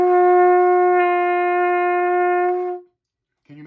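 A trumpet holds an open G with no valves pressed, one clear sustained note lasting a few seconds before it stops, followed by a brief bit of speech.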